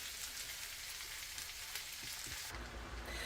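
Bell peppers sauté in hot oil in a pan, giving a steady close sizzle that continues for about three seconds, with no voices.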